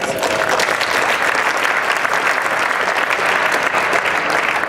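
Loud, continuous applause from a crowd at a Christmas party, dense steady clapping filling the whole stretch without pause.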